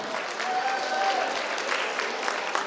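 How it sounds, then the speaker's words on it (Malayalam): Steady applause from a crowd at a 50th wedding anniversary celebration, a continuous wash of clapping that holds at an even level throughout. "നല്ലൊരു കൈയടി കൊടുക്കാം."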